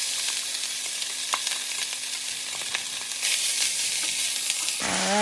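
Oil sizzles and crackles hard in a hot pan while fried rice is made, a loud, dense hiss with small pops that grows a little brighter near the end and then breaks off into a brief clatter.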